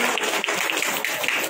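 An audience at a new-year calendar and booklet release ceremony claps continuously, a dense, loud wash of many hands with no pauses.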